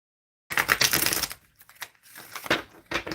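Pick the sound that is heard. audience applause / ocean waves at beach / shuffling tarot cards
shuffling tarot cards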